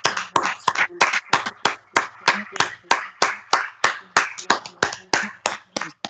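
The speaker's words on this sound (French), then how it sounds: "Applaudissons." A congregation claps in quick, rhythmic unison at a French-language prayer meeting in Paris, sharp loud hand claps repeating steadily for several seconds with no voices over them.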